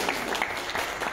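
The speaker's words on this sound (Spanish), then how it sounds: "vamos a darles un aplauso a Denis Olvera y a Carlos Borja" Applause from an audience at an international ecological opening event, a dense steady patter of many hands clapping, moderately close and continuous through the short stretch.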